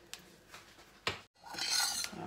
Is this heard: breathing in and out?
no